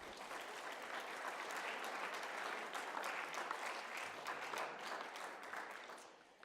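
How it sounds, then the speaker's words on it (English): Applause fills the South Dakota Senate chamber, many hands clapping in a steady, crisp patter from a sizable room, fairly distant and even, tapering off at the close. "Well, let's give them a round of applause."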